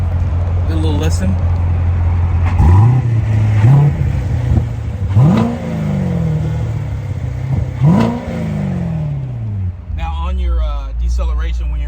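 A sports car engine revs up sharply three times in a row, each rev rising and falling back to a deep idle rumble, loud and close.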